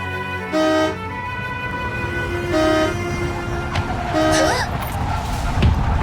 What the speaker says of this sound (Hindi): कब से हॉर्न बजाए जा रहा हूं।